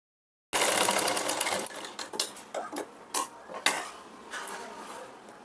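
A sewing machine stitches a 34-inch princess-cut blouse. It starts abruptly as a close, steady whirring run, with irregular clacks and metallic clinks breaking in near the end, and no one speaks.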